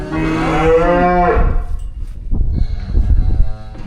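Cattle moo during a treatment session where weaned calves get lice treatment and wormer: one long, loud, close bellow that fades into rustling and shuffling noise.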